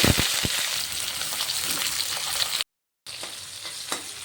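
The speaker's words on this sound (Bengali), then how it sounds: "কলাটা ভাজা হয়ে গেল" Raw banana slices frying in hot oil, a steady loud crackling sizzle with a few sharper pops, broken by a brief silent gap before the frying resumes.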